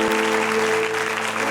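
A church congregation claps together in a dense, steady burst of applause, with a low sustained tone underneath.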